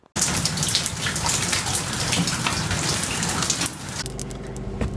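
Steady rain falling outdoors, a dense continuous patter that stays loud throughout before easing slightly near the end, with no voices.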